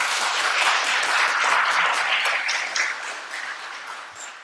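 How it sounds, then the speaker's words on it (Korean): A church congregation at a Sunday service applauds a couple celebrating their 62nd wedding anniversary, a full, dense round of clapping that slowly fades toward the end. "우리 다 같이 한번 박수 한번 우리 해주시죠"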